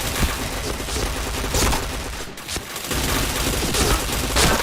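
Rapid bursts of video game gunfire crackle loudly and continuously, dense overlapping shots with a brief pause midway before the shooting resumes.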